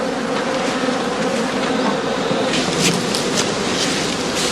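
Honey bees swarm around straw skeps as a beekeeper pours feeding solution into each, a dense, continuous buzzing hum, loud and close throughout.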